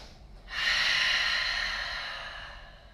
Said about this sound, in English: Big, loud, noisy breath.